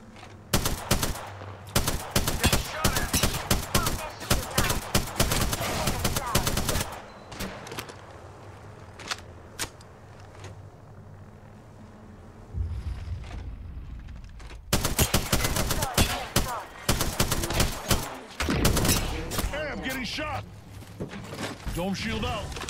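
Rapid automatic gunfire from the Apex Legends battle royale game bursts in dense volleys, drops to a lull, then returns in heavy sustained fire, with a player voice speaking over it.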